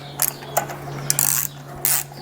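Ratchet wrench tightening the clutch cover bolts on a Kawasaki ZZR250 motorcycle: several short bursts of close, fast clicking as the handle swings, over a steady low electrical hum.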